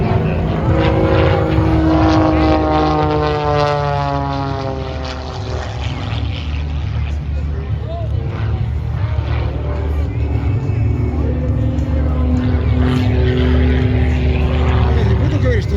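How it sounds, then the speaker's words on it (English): Droning propeller airplane with a custom-built 350 horsepower motor and composite propeller at an air show in Oregon, loud and steady, its pitch shifting as it passes, with a voice talking over it. "A custom-built 350 horsepower motor, an advanced composite propeller, short wings, and a streamlined canopy"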